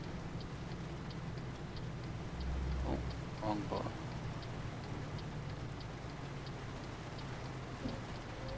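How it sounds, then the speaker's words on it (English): Rain falls in the truck-driving game Euro Truck Simulator 2 as a faint, even hiss, with a low engine drone underneath and some brief clicks. "Oh, and it's raining."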